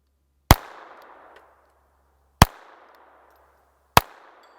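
Three sharp, loud SIG P322 Comp pistol shots crack out at spaced intervals, each leaving a short echoing tail across an outdoor range where a steel plate stands 100 yards away.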